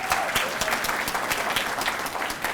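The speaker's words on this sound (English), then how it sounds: "Give them a big round of applause." Continuous applause from an audience at an awards event, many hands clapping densely and steadily at moderate loudness.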